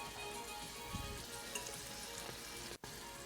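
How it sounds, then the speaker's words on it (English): A turkey patty fries in a pan on a stovetop, giving a steady, soft sizzle that runs the whole time with a few faint pops and no talking. "I will cook this little turkey patty on the stovetop instead of in the oven"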